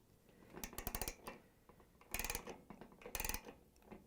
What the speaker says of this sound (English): I'm going to use a 5/8 socket wrench. I'm going to place it on, and remember, only loosen up